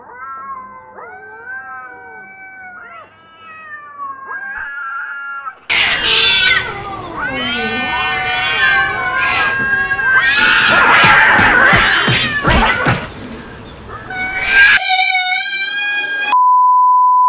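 Cats yowl and caterwaul in drawn-out, wavering cries, then break into loud, overlapping screeching as if fighting. A steady electronic beep sounds at the end.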